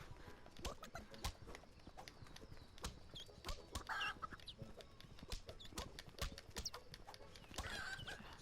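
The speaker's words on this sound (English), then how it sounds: "I'm gonna slap that chicken silly" A chicken clucks in the Asterix & Obelix XXL3 video game, with short repeated clucks among quick clattering game hits and footstep-like clops, a busy rhythmic mix at moderate level.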